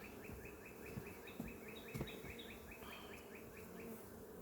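Honey bees hum steadily inside a beehive, a faint, dense buzz with one insect droning closer now and then and occasional soft knocks, all heard without any talk.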